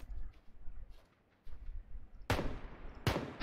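Gunfire in the battle-royale video game PUBG Lite: two sharp, loud shots about a second apart near the end, after a stretch of low rumbling game ambience.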